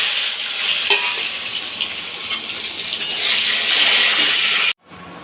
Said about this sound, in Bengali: বড়ি আর বেগুনটা আমি এরকম হালকা ভেজে নিয়েছি।